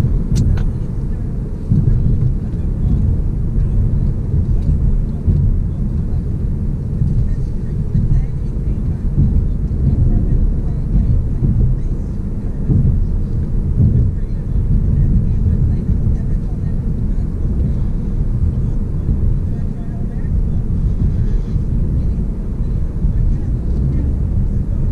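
A Ford Mustang EcoBoost accelerating on the road, heard from inside the cabin as a steady, loud, low engine and road drone that holds throughout.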